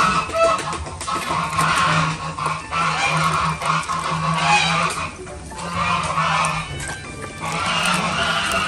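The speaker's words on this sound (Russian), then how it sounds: "Раскричались гуси." A flock of geese honking loudly and repeatedly, overlapping calls filling the air close by, with no break in the noise.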